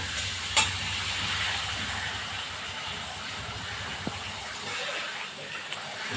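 Sweet dough snacks such as karanji deep-frying in hot oil, a steady close bubbling sizzle throughout with a couple of faint clinks and no talk.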